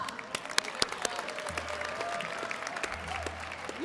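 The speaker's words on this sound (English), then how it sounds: "Let's give a big round of applause for Josh." Audience applause at an esports spring celebration grand finals, scattered sharp claps that build into steady clapping, with a few voices and a low hum underneath.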